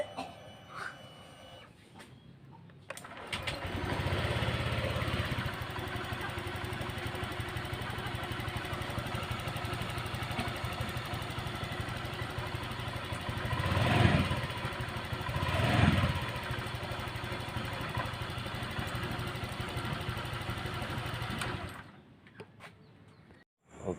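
A Honda Vario 125 scooter engine idles steadily during idle-speed adjustment, a close, even putter that swells twice briefly as the revs rise, then cuts off near the end.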